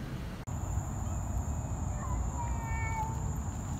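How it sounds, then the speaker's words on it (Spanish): Cats in a fight, with a few meows and whining cries rising over steady background noise outdoors. "Hace años que no estaba frente a una pelea de gatos."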